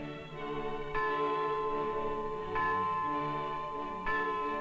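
A large bell tolls three times at an even pace, each strike ringing out with a bright metallic attack and a long, overlapping hum, moderately distant.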